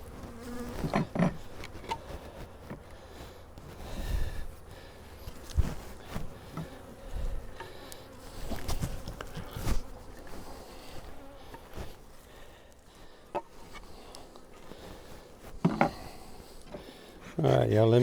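Honey bees buzz steadily around an opened long hive during an inspection, a dense droning swarm close by, under frequent speech with occasional knocks and bumps of hive parts.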